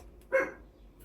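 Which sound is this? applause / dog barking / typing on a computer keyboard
dog barking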